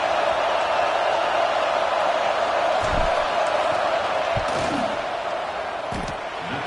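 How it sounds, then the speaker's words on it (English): Stadium crowd at a college football game in the video game CFB 26, a loud steady roar of massed fans building pressure before a field goal, with a few thumping hits rising through it. "This crowd trying to do its part to get inside the kicker's head."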